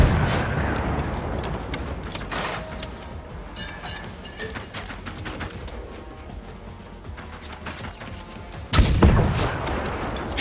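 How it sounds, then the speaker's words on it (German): Gunshots in the game Generation Zero crack out against a busy, rumbling background, scattered reports through the stretch, then a louder, booming shot near the end. "Shit, daneben geschossen."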